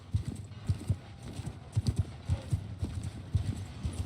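Horses galloping in the video game War Sails Viking, a rapid uneven patter of many hoofbeats, fairly faint and steady throughout with no voices.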